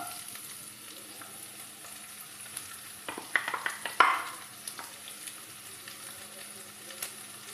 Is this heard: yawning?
no